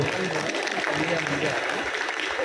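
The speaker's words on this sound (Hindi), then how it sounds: "ताली तो बजा दो।" Conference audience in Mumbai clapping, a sustained spread of hands applauding at moderate distance with voices and speech mixed through it.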